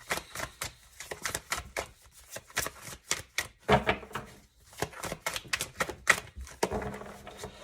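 Quick bursts of papery clicks and riffles come in irregular clusters, tarot cards being shuffled close by with brief pauses between handfuls.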